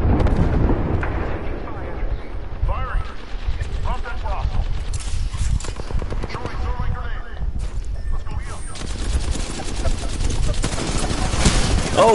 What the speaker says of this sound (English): I just landed in the freaking airstrike